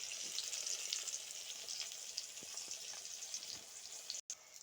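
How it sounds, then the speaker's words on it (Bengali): Pointed gourd slices frying in a pan give a steady, bright hiss of sizzling oil, close and even throughout, with a few faint pops and a brief dropout near the end. "তো দেখো এদিকে পটল ভাজা হচ্ছে।"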